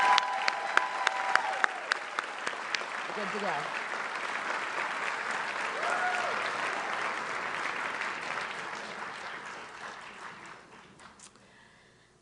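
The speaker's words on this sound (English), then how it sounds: "let's have a round of applause" An audience at a 2025 award ceremony claps steadily, many hands with a few sharp close claps at first, then fading out gradually; a brief voice speaks near the start.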